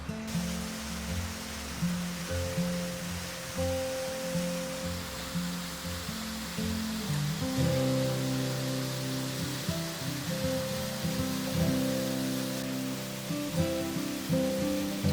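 A small monsoon waterfall on the Vikatgad trek near Peb and Matheran pours in a steady, broadband rush, heard close and continuous throughout with a faint tonal hum layered over the water.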